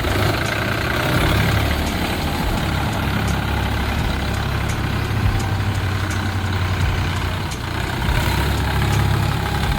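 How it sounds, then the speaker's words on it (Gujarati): A Mahindra Yuvo Tech+ 405 DI tractor engine runs in 4x2 with a steady, close diesel rumble and an even drone that holds with no pauses. "આ જે ટ્રેક્ટર ચાલી રહ્યું છે જે તમે જોઈ રહ્યા છો તે ફોર બાય ટુમાં ચાલી રહ્યું છે"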